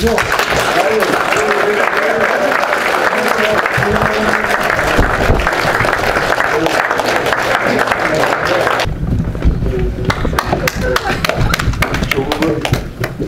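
An audience claps in sustained, dense applause at a 62nd-anniversary May 16 commemorative ceremony in a hall, a continuous crowd patter mixed with a speaker's amplified voice that thins out toward the end.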